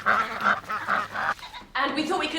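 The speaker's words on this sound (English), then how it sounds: "And David, will you do something about these flipping ducks?" Ducks quack and honk loudly nearby in a garden, giving a quick run of harsh, nasal calls with brief pauses between them.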